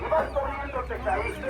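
Chickens cluck at a poultry stall during market day in Tlaxiaco, in Oaxaca's Mixteca region, with repeated nearby clucks mixed into busy market noise while a vendor talks loudly over them.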